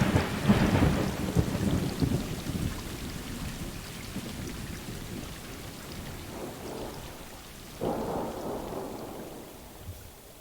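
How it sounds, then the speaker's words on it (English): Thunder rumbles and rain falls in a warm, lush tropical setting, a loud roll at the start easing into steady rainfall, with another thunder rumble building near the end. "Maybe this is like a very tropical environment where it's rainy, but it's also very warm."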